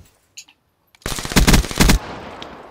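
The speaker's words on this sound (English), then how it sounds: "Oh, he shot at me." Call of Duty Search and Destroy gunfire: after a couple of faint clicks, a loud close burst of rapid automatic shots rattles for about a second, then tails off into quieter game ambience.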